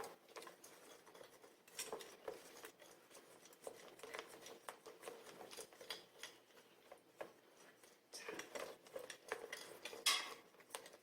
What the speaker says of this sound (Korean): 처음에 얘네 둘이 섞일 때는 이렇게 거품기로 하면 훨씬 더 잘 섞입니다